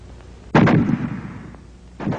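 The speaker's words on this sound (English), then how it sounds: "The fragmentation grenade." A World War II fragmentation grenade detonates nearby with one sharp, loud blast that trails into a brief rumbling decay, and a second burst follows about a second and a half later.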